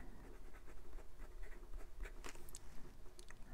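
A Benu fountain pen with a fine size 5 Schmidt steel nib scratches across paper in soft, close strokes with a light papery texture, alone and fairly faint.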